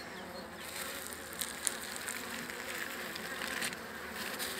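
Honeybees, including newly emerged nurse bees, buzz continuously around a hive, a soft, steady swarm hum with individual bees droning past nearby.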